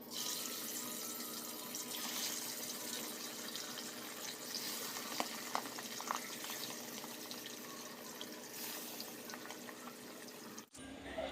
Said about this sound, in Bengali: ওদিকে মাছ আমি বসিয়ে দিয়েছি ভাজি হওয়ার জন্য। যতক্ষণ ভাজি হচ্ছে